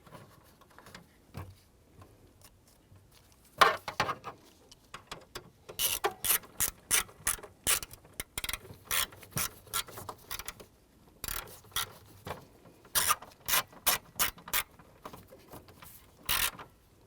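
Ratchet clicking in quick bursts while driving two small screws into a headlight switch on a 1993-1997 Ford Ranger, close and fairly quiet, with pauses between runs and no talk.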